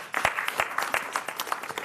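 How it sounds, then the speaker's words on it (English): A small audience at a county commissioners' meeting applauding, a short burst of scattered hand claps that thins out quickly, moderately loud in a room. "you can clap for it"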